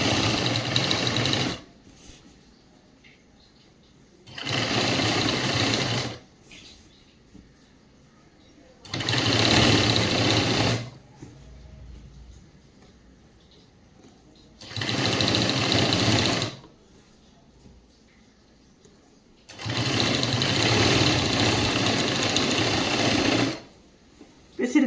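A sewing machine runs along the folded hem of a girls' school uniform skirt in five loud, even stitching runs of about two seconds each, separated by quiet pauses.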